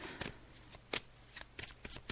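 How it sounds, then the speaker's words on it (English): Tarot cards are shuffled close up in quick soft riffling bursts with short pauses between them, faint and isolated. "So I'm just shuffling the cards now, as you can hear."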